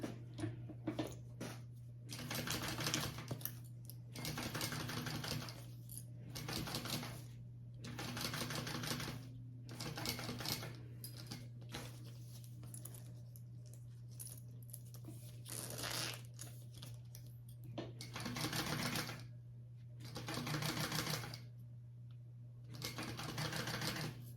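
A sewing machine bastes a crossbody bag seam in several bursts of fast stitching, separated by short pauses with fabric rustling and a steady low hum underneath.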